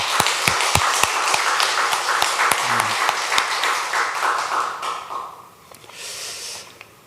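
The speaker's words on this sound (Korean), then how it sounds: "하나님께 영광의 박수를 올려드리겠습니다" A church congregation at a Sunday service in Busan bursts into dense, lively applause after the choir's hymn, with a few sharp standout claps, before thinning out and fading toward the end.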